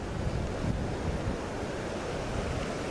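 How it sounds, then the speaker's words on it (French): Small mountain stream flowing beside a hiking campsite near Mont Blanc, a steady close rush of water with no talking. "Petit torrent à côté."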